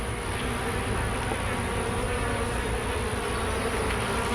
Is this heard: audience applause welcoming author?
no